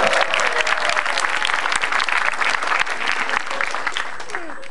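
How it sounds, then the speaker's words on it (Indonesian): A stand-up comedy crowd breaks into dense, lively applause, loud and continuous throughout before easing off slightly near the end. "Tepuk tangan buat lu semua"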